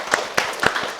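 Audience clapping in support at a talk, a short burst of a few loud, separate claps close by.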